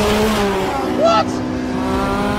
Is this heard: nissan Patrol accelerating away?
yes